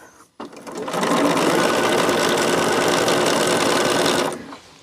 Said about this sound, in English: because I'm sewing.